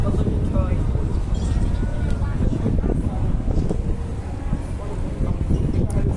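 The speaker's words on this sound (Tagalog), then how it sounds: "Mahangin sa labas, guys." Steady outdoor wind in Sai Kung, Hong Kong, buffeting the microphone, a continuous low rumble with gusty swells throughout, while a person talks underneath.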